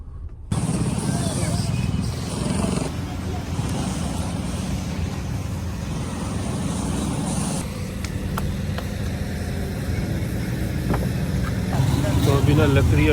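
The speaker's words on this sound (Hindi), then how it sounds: "तो अभी ना मैं ये गाड़ी वहाँ पे लेके जा रहा हूँ" A car being driven along, its engine droning steadily at moderate loudness with road rumble underneath, growing a little louder toward the end while someone talks over it.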